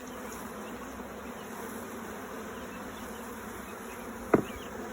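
A steady, low hum of many honey bees buzzing close by around comb, with a brief sharp knock near the end.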